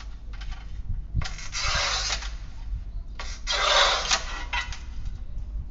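An old machine cuts a 7 cm porcelain tile baseboard strip in two loud, gritty abrasive bursts of about a second each, separated by a lower idling drone, close up with no talk.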